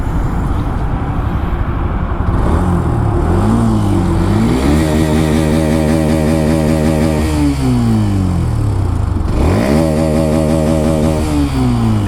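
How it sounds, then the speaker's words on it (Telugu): Hero Xtreme 125 motorcycle exhaust, steady loud idle rising through several throttle blips and revs, with a dip and a fresh rev near the end, close by and alone. "ఇక్కడ ఆపి మీకు ఎగ్జాస్ట్ నోట్ అయితే వినిపిస్తా"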